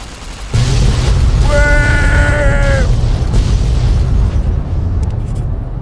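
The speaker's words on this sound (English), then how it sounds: "Very satisfying explosions, too, I gotta say." Explosions in the video game Fallout: New Vegas: a loud, sustained rumbling blast with deep booming low end and a ringing tonal whine in the middle, continuing steadily with no voices.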